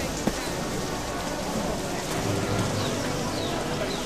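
Steady rain falls in a dense, even hiss, heard close and moderately loud throughout, with a few brief patters and no clear speech.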